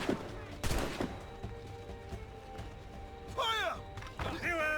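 Video game gunfire in Assassin's Creed Rogue: a few sharp shots and thuds against a steady battle din, with shouting voices and animal-like cries layered in the background.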